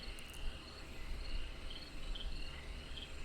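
Steady night ambience of chirping insects and faint croaking, an unbroken even drone with small high trills, distant and soft.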